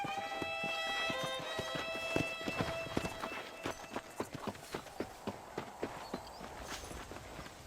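Horse hooves from the video game Red Dead Redemption beat out a brisk, even clip-clop that grows more prominent as a soft musical tone fades away early on, leaving the galloping rhythm alone and fairly quiet.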